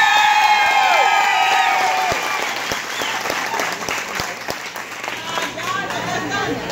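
A nightclub crowd at a Halloween costume party applauds and cheers loudly for a Cantinflas costume, with whoops over dense clapping that thins slightly partway through while a voice speaks over the noise.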